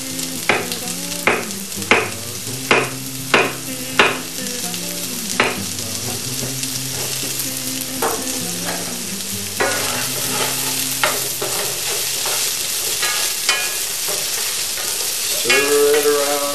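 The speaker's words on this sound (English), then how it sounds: "Squashes cook quickly in a stir fry." Zucchini and squash sizzle in a hot stir fry, with a steady frying hiss under regular rhythmic scrapes and taps of a utensil stirring the vegetables, close and fairly loud, with music playing in the background.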